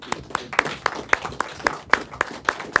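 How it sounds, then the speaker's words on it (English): A small group applauds a retiring council member at a district planning and regulation meeting, with sparse, evenly paced claps that sound few and close, alone without talk. "So I'd like to offer a round of applause for Mr."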